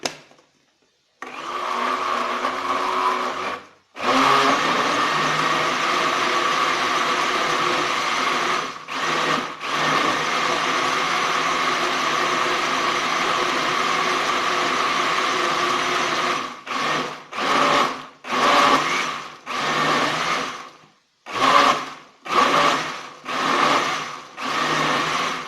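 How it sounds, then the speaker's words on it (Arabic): A kitchen blender grinds yogurt with carrots, a loud whirring motor running in long bursts, then pulsed on and off in short spurts toward the end, with no talking. "اذا نطحن هذا الياغوت مع الجزر."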